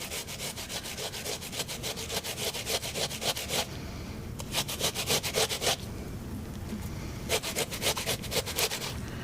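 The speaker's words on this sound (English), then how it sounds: "And I'm using a fairly fine grater here." A peeled pear is grated back and forth on a fine grater in steady bursts of close, raspy rubbing strokes, with a couple of brief pauses between runs.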